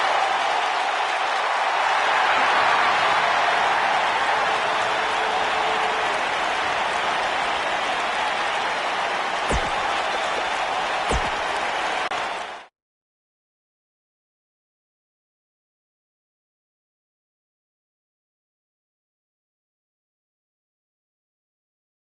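A virtual arena crowd in the wrestling game WWE 2K19 roars and applauds steadily for about twelve seconds, a dense, sustained wash of cheering with a couple of faint thumps, then cuts abruptly to silence.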